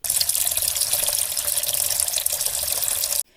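Water gushes steadily from a tap into a tub, a loud continuous rush that cuts off abruptly at the end.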